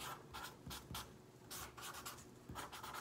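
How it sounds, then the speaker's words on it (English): A Sharpie marker scratches across cardboard in short, quick strokes, a soft rhythmic squeaking and rubbing heard close up and fairly quiet. "Then what I like to do is I just use a Sharpie"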